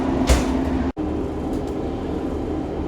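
Steady low rumble and rushing noise of a moving train interior, continuous throughout with a brief dropout near the start; no voices.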